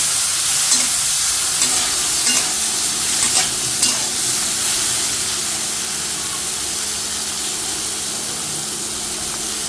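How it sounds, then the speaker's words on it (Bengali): Prawns fry in hot oil in a wok with a loud, dense, continuous sizzle, broken early on by a few scraping stirs, close up with no talking. "এবার সে কড়ার মধ্যে তেল দিয়ে দিছি আর চিংড়ি মাছটি দিয়ে দেবো"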